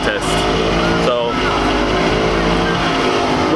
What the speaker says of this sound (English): Burnout contest.